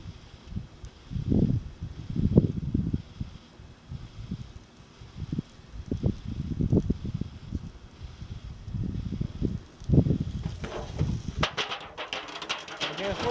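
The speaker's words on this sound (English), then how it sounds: "Again, it's windy." Wind gusting outdoors around a barbecue grill while a rack of lamb cooks, low rumbling buffets against the microphone that rise and fall in repeated gusts, with some handling noise near the end.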